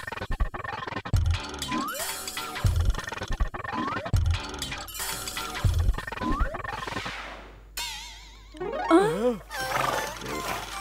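A cartoon robot horse neighs in an animated chase scene, loud whinnies rising near the end after busy clatter, crashes and music, with voices talking earlier.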